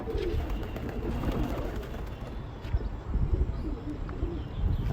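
Pigeons coo softly in a low, murmuring chorus amid a busy outdoor background, steady and fairly near throughout.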